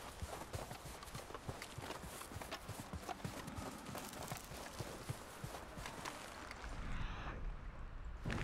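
Horse hooves trotting in the video game Red Dead Redemption 2, a steady rhythmic clip-clop of repeated hoof strikes running near and clear throughout, with brief rustling toward the end.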